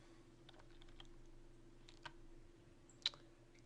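Computer keyboard typing while a sample number is entered into an asbestos and lead lab database, with scattered light key clicks over a low steady hum and one sharper, louder keystroke near the end.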